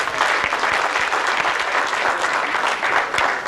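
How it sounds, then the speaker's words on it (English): An audience at a magic stage show applauds a volunteer, a dense, steady wash of many hands clapping with a few sharper nearby claps standing out, continuing without a break. "Let's have a big round of applause for him."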